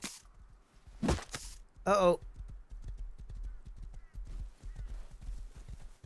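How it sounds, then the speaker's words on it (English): Hooves clip-clop in a steady rhythm in the video game Rust, drawing nearer, with a horse whinny near the start and a voice talking over it. "Someone on a horse."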